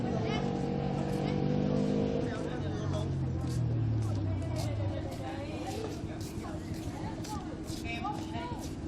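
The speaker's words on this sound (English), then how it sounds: "Noisy motorbikes coming." Motorbikes passing along a countryside road outside Hanoi, Vietnam, a loud engine drone rising and sliding past at close range over a steady bed of traffic and crowd noise.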